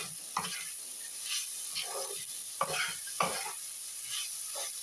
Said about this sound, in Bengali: কড়াইতে আস্তে আস্তে চিনি, ছানা সমস্ত উপকরণ দেওয়া আছে, মেল্ট হচ্ছে